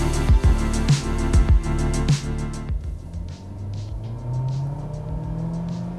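A 2026 Honda HR-V Touring with a CVT accelerates hard, its engine note climbing in pitch and then dropping back three times in quick succession, before settling into a steadier cruising drone with road and wind noise.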